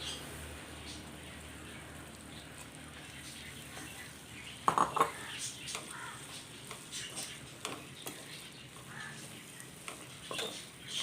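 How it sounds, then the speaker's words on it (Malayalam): Ground tuna and masala for tuna thoran being stirred in a pan: soft, quiet scraping and occasional metallic taps from a spoon, with a few sharper knocks later, close but faint over a low background hiss. "നന്നായിട്ട് മിക്സ് ചെയ്ത് ഒന്ന് തട്ടിപ്പൊത്തി വയ്ക്കുക"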